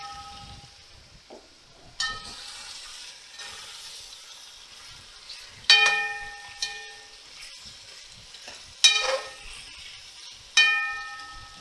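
Beef oxtail meat frying in a kazan, with bursts of hissing sizzle and metallic stirring clanks recurring every couple of seconds over a low steady crackle, close and fairly loud, no talk.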